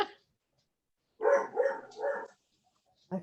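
A dog barks three times in quick succession at moderate distance during an online stamping club meeting, followed after a pause by one more short bark.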